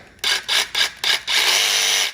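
A DEWALT 20V MAX cordless power tool revs close by in four short bursts, then holds one longer continuous whir, a bright high motor whine with no talking.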